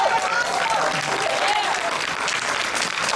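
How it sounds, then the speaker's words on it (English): Crowd at a BABSCon 2023 convention Q&A panel clapping for themselves; steady, dense applause throughout, with a voice faintly over it. "You got give yourselves a round of applause"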